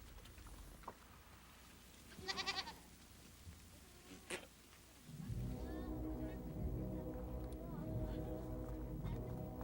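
Sheep and goats kept by Mongolian nomads bleat in brief bursts, then a dense, steady chorus of livestock swells in and continues, fairly close and loud.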